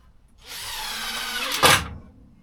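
A power drill drives screws into pallet wood cladding in a home garage workshop, a steady close whir of about a second and a half ending in a sharp louder burst as the screw bites.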